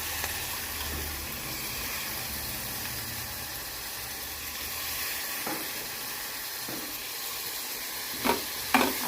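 Ginger garlic paste sizzling in a hot pan, a steady quiet frying hiss with a few soft scrapes of stirring near the end.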